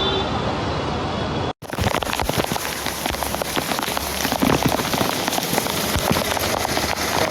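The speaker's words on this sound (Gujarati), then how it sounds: "ફૂલે ફૂલ વરસાદ આવે છે" Heavy rain pours steadily onto hard surfaces close by, a dense, continuous hiss with scattered louder splashes, after a brief cut near the start.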